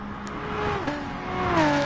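BMW touring car engine in a sim racing game, a loud, close engine note with rising and shifting pitch through gear changes, revving hard as the car pushes along the circuit.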